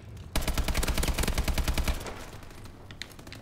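Rapid automatic gunfire from a weapon in the video game Call of Duty Advanced Warfare, a loud, dense burst of shots lasting under two seconds, followed by quieter game ambience and a few faint clicks.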